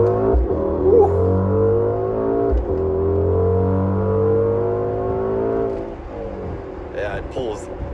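A 2022 Mercedes-AMG GLE63S Coupe's V8 engine revs in repeated swells, a deep rumbling drone that rises and falls, with people talking over it.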